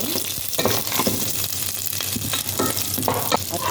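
Whole spices, including pepper leaves, cinnamon stick, cardamom seeds and cloves, fry loudly in a pot as they are stirred, with crackling sizzle and repeated scraping strokes of the spoon against the metal.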